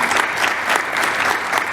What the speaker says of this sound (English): let's give him a round of applause for that, please